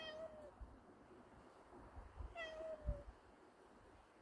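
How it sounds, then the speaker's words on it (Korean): Two cat meows a couple of seconds apart, each a drawn-out falling cry, fairly quiet over a soft background rumble. "야옹 합창이야? 노래야?"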